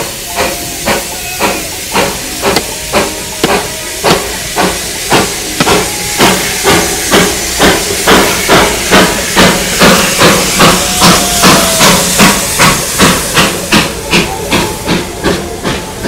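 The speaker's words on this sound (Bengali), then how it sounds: "স্টিম লোকোমোটিভ দাঁড়িয়ে আছে।" A steam locomotive on the Darjeeling toy train line at Batasia Loop gives loud, rhythmic chuffing bursts of steam, evenly spaced and close, repeating steadily for the whole stretch.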